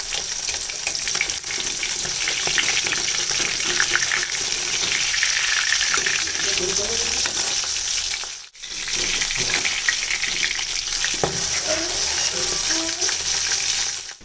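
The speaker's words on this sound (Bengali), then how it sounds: "মাছগুলোকে এখন দু সাইডটা ভালো করে ভেজে নেবো।" Bata and small rohu-type fish fry in oil, being browned on both sides, with a continuous close hiss and crackle. The sizzle cuts out briefly about midway, then resumes as strong as before.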